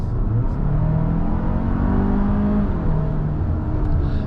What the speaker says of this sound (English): when you lift off of the gas pedal, it just keeps revving a little bit and just keeps going a little bit